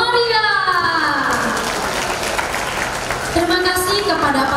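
Enthusiastic applause from an audience at a kindergarten graduation and farewell ceremony, a dense steady wash of clapping holding for several seconds, with a voice and faint speech rising above it.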